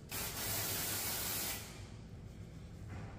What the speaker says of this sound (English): I'm just gonna spray this and then tease the crap out of it